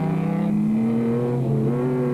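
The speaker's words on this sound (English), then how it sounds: "Schumi van Vieren looms into view in the Castrol Toyota Land Cruiser" The Castrol Toyota Land Cruiser races off-road, its engine revving loud and close with rising and falling pitch as it accelerates and shifts, a continuous roaring drone.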